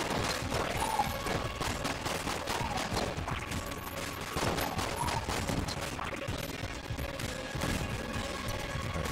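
Rapid, dense volleys of video-game gunfire from Enter the Gungeon, shots crackling in fast overlapping bursts with a few clanking hits, loud and continuous throughout without a break.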